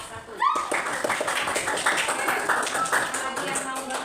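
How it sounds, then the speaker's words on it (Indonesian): A classroom of students applauds a group's presentation, a dense run of rapid claps that holds steady for several seconds, with a teacher's voice just before. "beri tepuk tangan buat kelompok 1."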